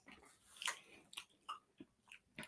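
Someone bites into thick, crunchy snack chips and chews, giving a series of close, crisp crunches with no talking.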